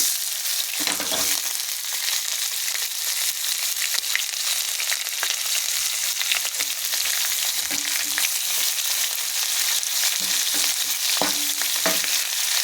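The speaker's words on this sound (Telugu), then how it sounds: "ఉల్లిపాయలు కొంచెం వేగాలండి." Onions with curry leaves fry in a pan, a loud continuous sizzle that runs throughout, broken by scraping and clinking from stirring, close up with no speech.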